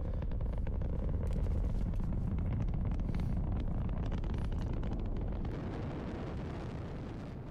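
A rocket flies past in the Fortnite Only Up map, giving a loud continuous roaring rumble with crackling bursts that holds steady for several seconds and fades slightly at the end, with no talk over it.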